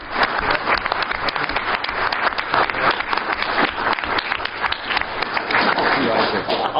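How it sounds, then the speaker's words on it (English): A conference audience applauds its participants with steady, sustained clapping from a sizeable crowd, even in level throughout, with a murmur of voices mixed in. "let's maybe give a round of applause to our participants."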